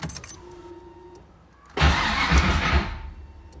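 A Foxbody Mustang engine with a new starter cranks and catches, then settles into a loud, rumbling idle after a brief quiet stretch with faint jingling.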